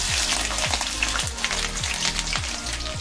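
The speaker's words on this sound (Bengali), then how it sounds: "তেল গরম হয়ে গেছে, আমি এবার পেঁয়াজ দিয়ে দেব।" Onions fry in hot mustard oil with a loud, steady crackling sizzle close by, punctuated by regular soft low thumps of stirring.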